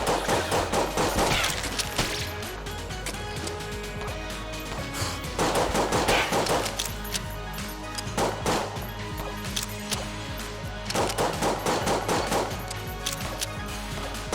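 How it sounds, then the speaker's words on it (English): Rapid bursts of gunfire from the video game Enter the Gungeon come in clustered volleys with short pauses, dense and continuous over an underlying game soundtrack, with no voices. "Shooting all these random bullets."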